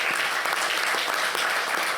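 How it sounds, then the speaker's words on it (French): An audience at a symposium in France applauds a padre, dense continuous clapping filling the room for a couple of seconds without pause. "je crois qu'on peut préventivement vous applaudir une nouvelle fois"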